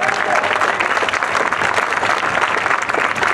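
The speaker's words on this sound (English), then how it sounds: "Let's give him a big round of applause." A large audience breaks into loud, dense applause at a postage stamp ceremony, continuous and close throughout with some crowd noise mixed in.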